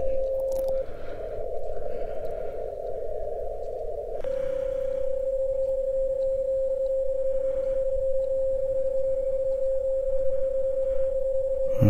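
BPSK-31 digital mode radio tones from an amateur transceiver: a steady pure tone runs throughout, with a brief burst of broader modulated signal early on and a constant low background hiss.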